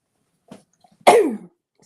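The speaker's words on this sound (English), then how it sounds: "I sneezed last time too." A single sharp sneeze bursts out close to the microphone after a faint intake of breath, then silence.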